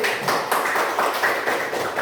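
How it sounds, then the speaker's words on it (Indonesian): A small group claps in steady, rapid rhythm for a student group's presenter in a classroom, near and moderately loud, with no talking over it. "Tepuk tangan"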